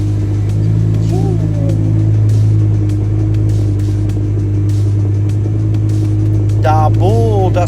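A Ferrari 360 V10 engine runs near a garage in a loud, steady, deep drone, and someone speaks over it at moments.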